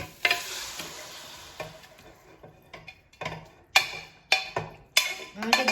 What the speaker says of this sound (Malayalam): ഇനി നമ്മൾ നേരത്തെ ബോയിൽ ചെയ്ത് വെച്ചിരുന്ന ചിക്കൻ വെള്ളത്തോട് കൂടി തന്നെ നമുക്ക് ഇതിലേക്ക് ചേർത്ത് കൊടുക്കാം